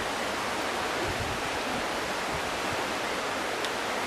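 Water rushes in a continuous broadband wash, steady and fairly close, with no pauses or voices over it.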